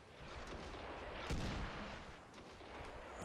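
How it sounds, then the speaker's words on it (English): Mortar fire in the video game Medal of Honor: Warfighter, a single muffled blast landing mid-clip over a steady rumble of distant battlefield noise, with no voices. "Hopefully those mortars will put those guys down."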